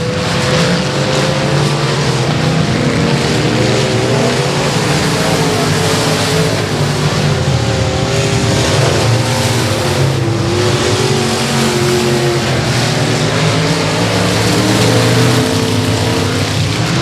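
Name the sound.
race cars driving on a dirt speedway track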